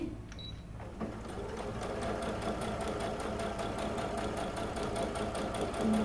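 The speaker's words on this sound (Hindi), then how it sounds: "थोड़ा सा जूम करके मैं आपको दिखा रही हूँ, देखिए किस तरह से हमारी सिलाई लगेगी।" A sewing machine runs steadily while stitching a kameez seam, its needle giving a fast, even mechanical rattle close by after a brief start-up, continuing with no talk.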